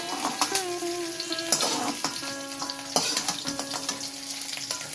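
Cauliflower florets sizzle steadily in hot oil for a cauliflower-prawn curry, with a continuous crackling hiss and occasional louder pops and scrapes of stirring, close up and with no talking.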